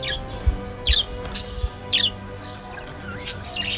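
Budgies in a cage with eggs chirp in short bright bursts, several calls spaced irregularly over a low background hum, fairly close, with no talking.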